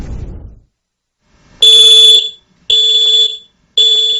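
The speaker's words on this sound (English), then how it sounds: "You expect your smoke detector to warn you in a fire." A piercing electronic smoke alarm shrieks in three long, loud bursts separated by short pauses, after a brief low rumble at the start.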